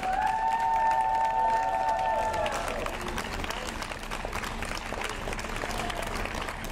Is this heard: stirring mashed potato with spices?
no